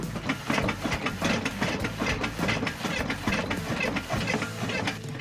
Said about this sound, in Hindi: मानिए कि इस ट्रैक से कोई रेलगाड़ी रफ्तार में गुजर रही है